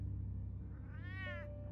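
A cat meows once inside the Batman Telltale Series video game, a clear rising-and-falling harmonic cry over a steady low background hum of game ambience.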